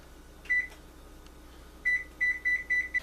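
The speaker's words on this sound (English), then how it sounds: "set the timer again for another 30 minutes" An oven timer beeping while chicken cooks: one short electronic beep, a pause, then a quick series of four or five more, close and clear over faint room hum.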